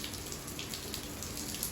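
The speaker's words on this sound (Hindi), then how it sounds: "देखो हमारे दौड़ के बारिश आनी शुरू होगी" Soft, steady patter of rain falling on a farm field, a dense even hiss with faint drips, no voices.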